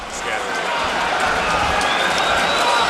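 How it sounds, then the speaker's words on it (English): Crowd at Mansfield Town's stadium cheering just after their equaliser against Arsenal in an FA Cup fifth round tie, a loud, steady roar that continues without a break throughout. "The crowd are absolutely buzzing"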